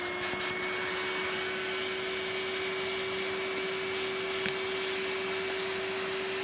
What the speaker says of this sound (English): use it to suck out the fine particles of dust